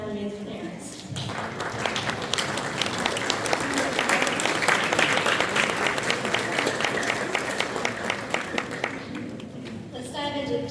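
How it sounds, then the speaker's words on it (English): An audience and standing band students applaud the parents at an intermediate-school wind ensemble winter concert, with dense, steady clapping that fills the hall for about ten seconds before thinning at the very end. "All band students stand and applaud our amazing parents."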